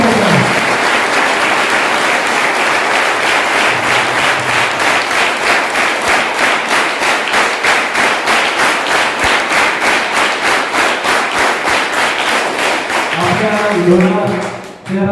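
Loud, sustained applause from a crowd at a Vidarbha Academy 9th anniversary gathering, welcoming Sheikh sir with steady, dense clapping that runs nearly the whole time, then briefly gives way to a voice at the very end.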